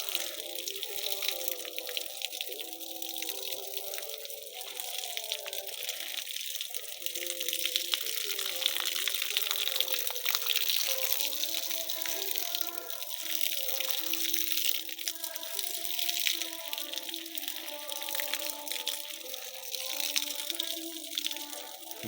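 Water from a one-inch irrigation delivery pipe fed by a battery-powered submersible bilge pump splashes steadily onto farm trees, a continuous faint rushing gush throughout.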